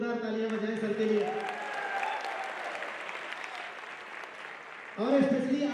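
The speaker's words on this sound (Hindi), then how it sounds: "मैं चाहूंगा जोरदार तालियां बजाएं सर के लिए।" An audience at a talk gives a hearty round of applause, a dense, steady patter in the middle, while voices speak briefly before it starts and again as it fades.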